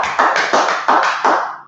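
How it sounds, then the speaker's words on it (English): Hands clapping together in a steady rhythm of about six sharp, close claps over under two seconds, with no talking. "clap it up, man"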